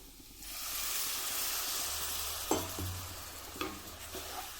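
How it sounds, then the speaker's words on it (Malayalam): Spice powders hiss and sizzle in a pan after a splash of water goes in, a broad steady frying wash with a couple of sharp utensil taps against the pan. "പൊടികളെല്ലാം കൂടെ ഒന്ന് മിക്സ് ആകാൻ വേണ്ടി നമുക്കൊരല്പം വെള്ളവും കൂടെ ചേർത്ത് കൊടുക്കാം"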